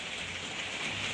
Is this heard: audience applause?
no